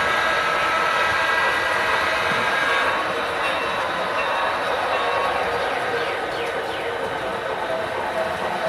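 Model trains running on a block-controlled home layout, a steady, loud rolling rumble and whirr with faint clicking of wheels on track, continuous throughout.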